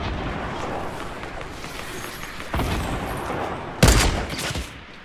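Gunfire in the video game Fortnite: a dense, rumbling barrage of shots that swells partway through, with one sharper, louder blast near the end.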